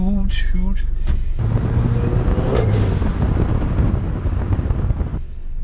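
A 500 hp VW Golf 7R with turbo and wastegate gives a loud, sustained engine roar with rushing turbo whoosh and a hissing release, close and continuous for several seconds.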